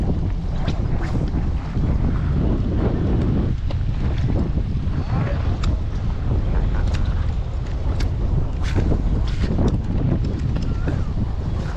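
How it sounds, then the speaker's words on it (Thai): Strong wind blowing hard over an open sea bass fish pond, loud continuous buffeting and rumbling against the microphone with splashing water underneath, steady throughout. "ลมมาแรงอะพี่"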